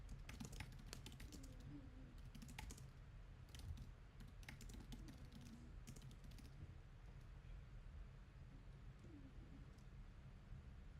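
Keys clatter on a computer keyboard in quick, uneven bursts as notes are typed, fairly quiet and close, with faint bird cooing in the background.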